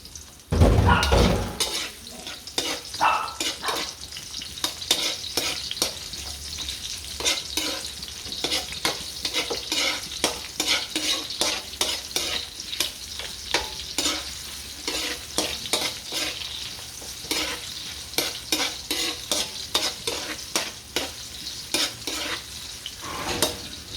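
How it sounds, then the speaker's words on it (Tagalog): Chopped onions sizzle in a pan for paksiw na pata, with a constant frying hiss under a quick, continuous rhythm of spatula scrapes and clatters. The sound is close and steady throughout, with no voices. "Lagay po natin itong sibuyas."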